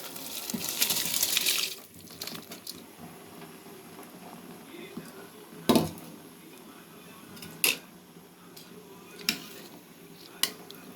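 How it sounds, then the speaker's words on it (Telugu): Water from boiled rice for pulao is strained off, first as a short splashing gush, then a quiet stretch broken by a few sharp clanks of pots and utensils. "ఈ స్టేజ్లో ఉన్నప్పుడు బియ్యం వడకట్టేసి పోసేద్దాం."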